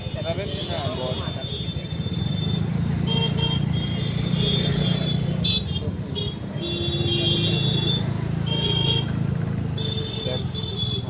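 A road traffic jam with car and motorcycle engines idling and rumbling steadily, and repeated horn toots sounding nearby, while people talk over the continuous vehicle noise.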